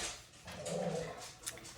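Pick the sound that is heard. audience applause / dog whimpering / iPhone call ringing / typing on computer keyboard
dog whimpering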